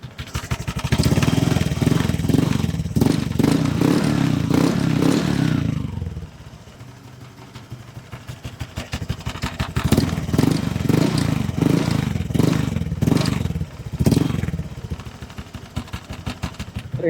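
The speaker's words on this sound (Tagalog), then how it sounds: "So yun ang ating TRC Honda Click pipe sa ating Honda Click" Honda Click V2 scooter fitted with a TRC racing exhaust pipe, its engine revving in loud bursts, dropping to a lower idle midway, then revving again, heard up close.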